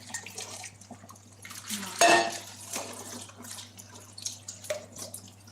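Water splashing and dribbling as a metal pot is scrubbed and knocked in a sink, with one louder clatter partway through.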